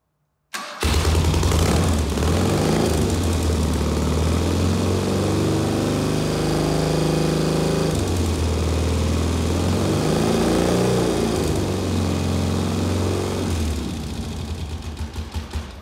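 A freshly rebuilt 1000cc BMW R90/6 bobber motorcycle engine starts and runs continuously at a steady idle, loud and close, with a possible exhaust leak; the rough, throbbing mechanical drone holds for about fifteen seconds before easing slightly at the end.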